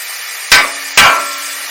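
Two sharp, loud hammer knocks, about half a second apart, each ringing briefly before fading.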